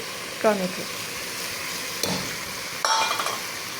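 Biryani ingredients fry in a pan with a continuous soft sizzle, broken by three distinct scrapes of a spoon stirring the mixture, heard up close and without speech.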